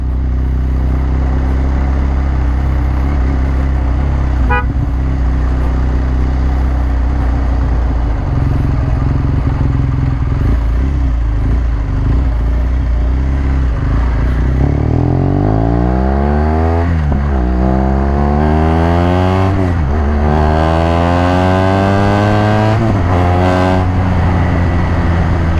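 A 2017 BMW R1200 GS adventure motorcycle engine revs up and down repeatedly while riding, loud and close, with rising and falling pitch sweeps as it accelerates through gears.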